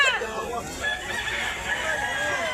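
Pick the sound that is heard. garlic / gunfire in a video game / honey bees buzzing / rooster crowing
rooster crowing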